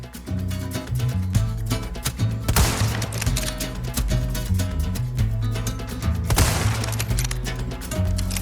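Rapid gunshots at the Resident Evil 4 Remake shooting gallery, repeated sharp cracks over background music with a couple of louder bursts.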